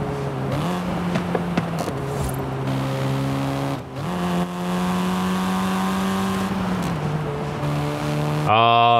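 Exhaust of a Volkswagen Golf in Forza Horizon 5, heard from behind the car: a loud, sustained engine drone that rises and falls through gear shifts, ending in a sharp rev, with no voices.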